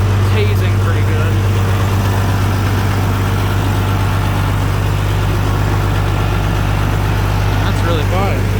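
An old tractor engine fitted with a new muffler runs at a steady idle, a loud continuous low rumble close by, with faint voices underneath.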